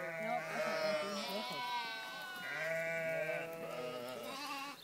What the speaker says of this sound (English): underwater sheep